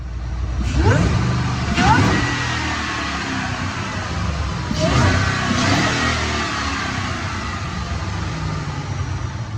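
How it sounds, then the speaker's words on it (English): 2009 Mustang GT automatic with an Edelbrock supercharger, Detroit rocker cams and shorty headers revving on a dyno, loud rising and falling engine sweeps with supercharger whine, several climbs in succession. "We're going to watch a dyno pull."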